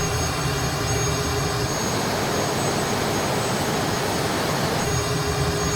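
Cessna T-37B Tweet jet engines held at full power in Microsoft Flight Simulator, a loud, steady, continuous high-pitched jet roar and whine with no break.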